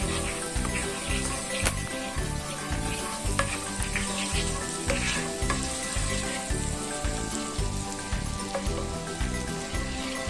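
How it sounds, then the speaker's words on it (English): Butter heating in a pan while an English breakfast is cooked, a dense close sizzle with rhythmic low thumps and occasional sharp crackles running steadily throughout. "Heat the butter. Make sure the butter will heat the whole of the bowl."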